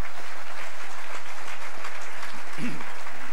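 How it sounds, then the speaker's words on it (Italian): An audience at a political conference on Veneto independence applauds a newly elected MEP, dense steady clapping holding at an even level with a few voices faintly mixed in underneath. "dall'onorevole Bizzotto, europarlamentare neoeletta, che ha sposato l'indipendenza e che si merita un applauso"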